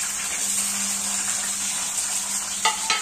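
Onion and green chillies sizzle steadily in hot oil with cumin and mustard seeds, a close, constant frying hiss, with a couple of faint clinks near the end.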